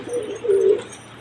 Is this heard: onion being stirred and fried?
no